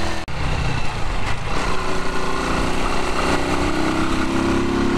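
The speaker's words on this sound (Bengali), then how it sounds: "লিফান ভিক্টর আর 125 নিয়ে আমি এখন হচ্ছে অফ রাইডিং টেস্ট করছি।" A Lifan Victor R 125 cafe racer motorcycle engine during a riding test, a steady, loud droning hum that holds throughout with slight pitch shifts, close to the listener and with no talk.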